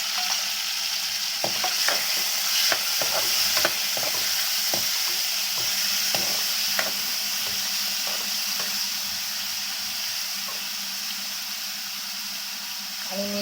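Curry leaves fry in hot oil in a pan, a loud steady sizzle and hiss running throughout with occasional stirring scrapes and crackles, close and continuous.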